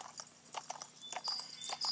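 Hooves clip-clopping in the horse riding video game Horses 3D Imagine Champion Rider: a quick, steady run of close, crisp hoofbeats with a thin high tone sounding over the later steps.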